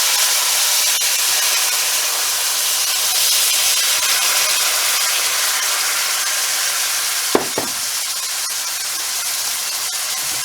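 Wine poured into a hot pan of garlic for beef stroganoff, giving a steady loud hiss and sizzle throughout with a brief sharp clank near the end.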